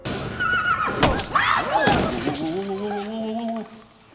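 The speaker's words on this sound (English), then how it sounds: "While OJ and his sister present a horse on a film set, someone from the crew scares the animal by making it face its own reflection." A frightened horse on a film set whinnies loudly several times in rising and falling bursts, close and agitated, with clattering and a brief thud mixed in and a voice briefly heard.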